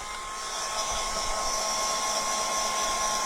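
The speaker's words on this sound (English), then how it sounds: "we now need, whether we like it or not, to get that pesky heat gun out" A heat gun blows steadily, drying crackle medium on a craft piece, a constant loud whooshing hiss with a thin high whine, close up and without talk.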